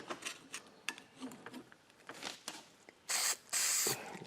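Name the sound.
silicone spray being sprayed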